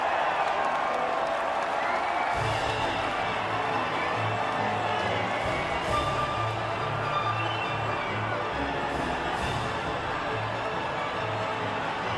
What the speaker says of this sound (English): the reaction from the crowd must be incredibly uplifting for them